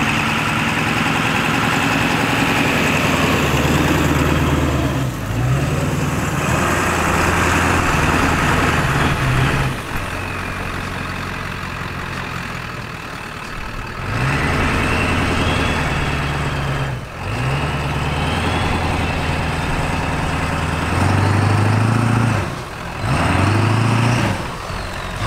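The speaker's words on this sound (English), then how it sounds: "I'm gonna get a view with the camera setting out so you can see the truck going up the hill." A Dodge dually pickup climbs a hill, its engine note rising and falling in long revving surges with short lulls between, loud and steady with no talking.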